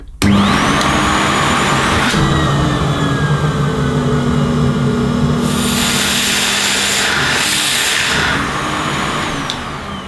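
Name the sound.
Miele S240i cylinder vacuum cleaner running, motor slowing as suction blocked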